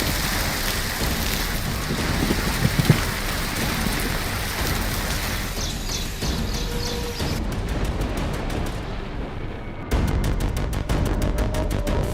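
Heavy rain pours down during flooding in Uttarakhand, a steady, dense roar of falling water with a faint rumble, broken by a few abrupt cuts between shots.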